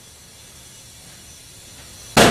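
A sudden loud bang bursts from a BMW X6 (G06) tire as the bead seats during inflation, a single sharp pop after a steady background hiss.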